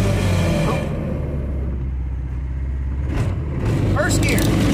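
A 440 Duromax go-kart engine on a go-kart pickup truck rumbles loudly and steadily at close range on a ride-along, with brief scrapes and knocks near the end.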